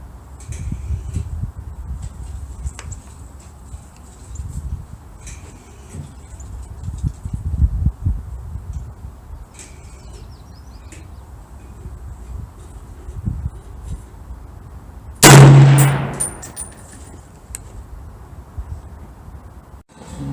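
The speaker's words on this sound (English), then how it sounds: "Alright, here goes the second shot." A single sharp, loud shot from a DPMS LR .308 AR-style rifle at an outdoor range, cracking out once over faint background hiss and then ringing briefly into the distance.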